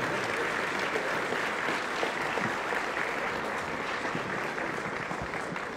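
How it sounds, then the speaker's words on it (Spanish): Audience applause of welcome at a solemn religious profession ceremony in a church, steady dense clapping from a crowd that continues evenly throughout. "Le damos un aplauso de bienvenida siempre a los dos."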